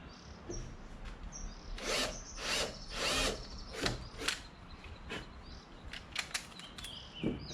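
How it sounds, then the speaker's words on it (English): Short bursts of a power drill whirring into material, several brief pulses with pauses between, fairly quiet and close. "drilling time."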